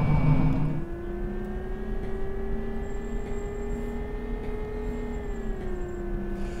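A simulated trolleybus in a bus simulator game hums with a steady electric motor whine and a rising tone as it drives, alone without talk.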